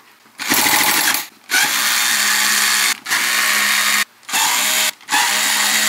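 A power screwdriver whirs loudly and close in five separate bursts, each cut by a brief pause, unscrewing the bolts on a computer power supply cover, with no talking.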